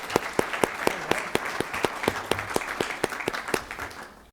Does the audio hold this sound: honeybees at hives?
no